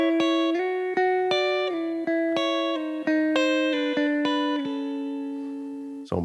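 A gospel guitar turnaround variation is played slowly on guitar: a sequence of clear picked notes with slides between them, each ringing out, then a final sustained note. No talking.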